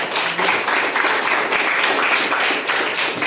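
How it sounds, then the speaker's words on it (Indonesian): Applause from a classroom of students for three classmates, dense steady clapping filling the whole stretch at a fairly loud, even level with no talk over it. "Tepuk tangan untuk 3 orang."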